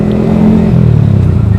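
Yamaha R15 V3 motorcycle fitted with a Daytona Evolution racing exhaust, close and loud, its engine tone falling from a high rev down toward a rough, pulsing idle.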